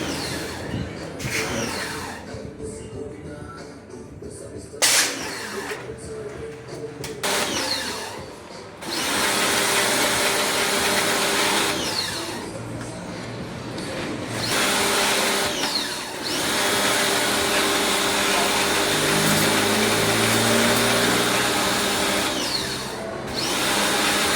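A steady, loud air blower roars for long stretches while cleaning an air conditioner, cutting in and out a few times, with some clatter and handling noise in between.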